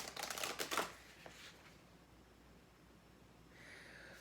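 A deck of oracle cards is shuffled close by in a quick burst of crisp riffling and flicking, followed by a few faint rustles and then near quiet.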